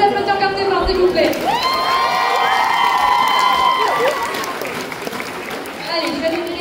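Crowd at a cosplay contest in a fantasy and Japan convention hall applauds and cheers loudly, with whoops and shouts rising over steady clapping, and voices talking through it.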